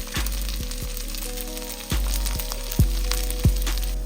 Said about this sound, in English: And we're just gonna fry it up.